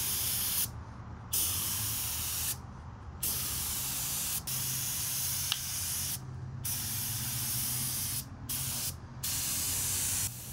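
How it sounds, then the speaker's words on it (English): A paint sprayer loaded with gray paint thinned with water sprays steadily on metal chairs for a patio table set, a continuous loud hiss broken by several short pauses where the trigger is released. "This is real time, how good this is spraying and what good coverage we're getting"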